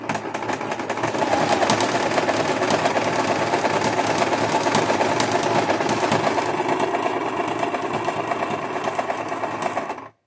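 A domestic sewing machine stitching a decorative embroidery pattern, a loud, close, rapid mechanical whir that runs steadily for about ten seconds, then stops abruptly.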